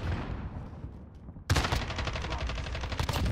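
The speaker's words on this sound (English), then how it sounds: "I wasn't gonna stop shooting there, buddy." Call of Duty: Modern Warfare gunfire, likely from a Holger-26 in a Hardpoint match. Faint distant shots give way to a loud, sudden burst of rapid automatic fire with steady, machine-gun-like repeats.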